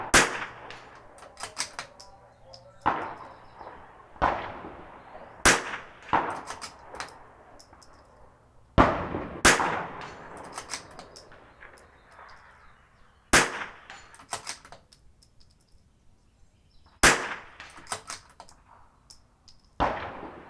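Rifle fire at a shooting range, a series of sharp, sudden reports spaced irregularly a few seconds apart, each with a short ringing decay and lighter clanks between them, heard fairly close with no talk.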